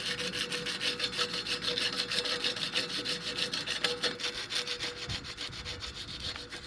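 A rag or pad rubs steadily back and forth across a mountain bike disc brake rotor to strip off glazed pad residue, giving a close, continuous scrubbing rasp with a quick repeating rhythm and no talking.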